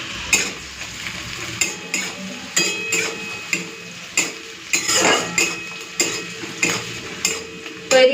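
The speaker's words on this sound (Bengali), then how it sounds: "পেঁয়াজ, কাঁচা লঙ্কা আর রসুনটা একটুখানি ভেজে নিই" Onion, green chili and garlic frying in oil while a spoon scrapes the pan in steady, repeated strokes roughly every half second, loud and close over a continuous sizzle.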